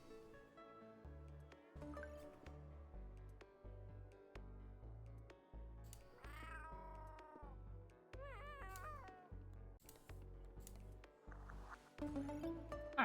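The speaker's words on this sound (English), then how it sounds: "Stray cats!" Several cats meow in the video game Cat Cafe Manager, rising and falling mews over a bouncy background tune. Cries come in scattered bursts, some drawn out, a few short.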